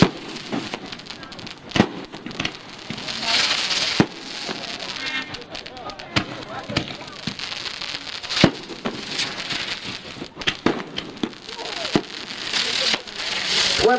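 Roman candle fireworks with magnalium chips crackle densely and continuously, with sharp pops and bursts throughout, heard outdoors at a 1996 Michigan fireworks convention while an announcer talks over them.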